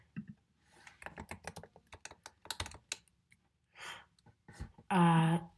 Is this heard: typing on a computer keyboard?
yes